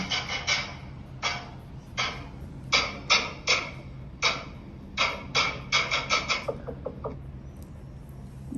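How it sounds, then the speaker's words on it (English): Sharp, dry drum taps in an uneven rhythm, some single hits and some quick rolls, ending in a fast flurry that fades. "so this is the sound of drum."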